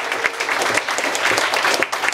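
An audience at a Hobart comedy show claps steadily, a dense wash of applause that stays loud and even throughout the brief moment.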